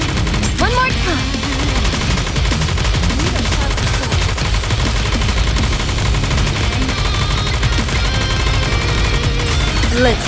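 Dense, continuous gunfire and explosions from a video game battle fill a loud, busy mix. Game voices and music are layered over the shooting.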